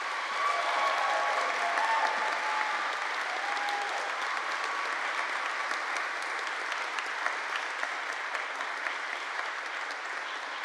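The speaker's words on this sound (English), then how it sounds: "Please give a round of applause" Sustained applause from the audience fills the hall after a Lawrence University choir concert. Dense clapping holds steady for about ten seconds at close, even volume, with faint crowd murmur underneath.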